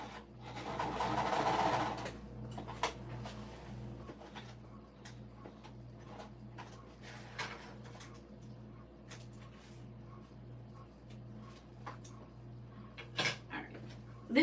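A sewing machine stitching a stadium-approved bag, with a steady mechanical whir and a fast, regular stitching rhythm running throughout at close range, plus a few brief louder clicks and bumps.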